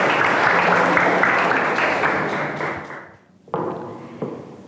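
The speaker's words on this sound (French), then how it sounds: "Applaudissons Alice Rassafjassap." An audience applauds at a speaking event as a presenter is introduced, a dense round of clapping that fades out and stops, followed by a few scattered claps and a light thump.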